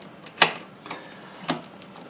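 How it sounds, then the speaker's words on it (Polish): A screwdriver backing out the fan screws of a Toshiba Satellite L500 laptop gives three small, dry clicks spaced across two seconds, close and quiet, with no other sound. "to odkręcamy wentylator"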